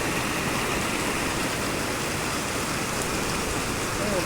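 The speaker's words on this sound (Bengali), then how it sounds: "এই দেখো কি জোরে বৃষ্টি হচ্ছে।" Heavy rain pours down steadily, a dense, even roar of water with no breaks, moderately loud and continuous throughout.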